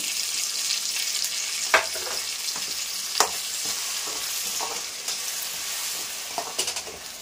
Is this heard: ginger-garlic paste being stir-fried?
yes